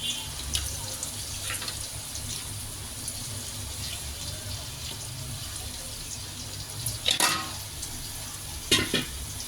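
Vegetables frying in a pan are stirred, with a soft continuous sizzle and scraping strokes, and a few louder clattering knocks of the utensil toward the end.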